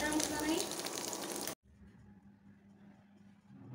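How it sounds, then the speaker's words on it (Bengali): Egg frying in hot oil in a kadai on an induction stove, a bright, dense sizzle for about a second and a half that cuts off abruptly, followed by a faint low hum. "ইন্ডাকশন চুলায় কড়াই বসিয়ে তেল গরম করে খুব ভালোভাবে একটা ডিম ভেজে নিচ্ছি"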